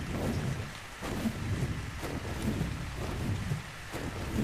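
Rain falls in the ARK: Survival Evolved video game as a steady, moderate wash of patter with low rumbling gusts. No speech is heard.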